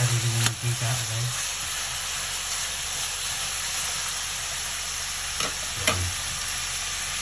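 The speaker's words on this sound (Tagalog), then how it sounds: "Ginisa na natin siya sa sarili ng mantika guys." Pork sautés in its own rendered fat for spicy pork adobo, a continuous loud hiss and sizzle with a few thuds and scrapes of stirring near the start and end, no talk.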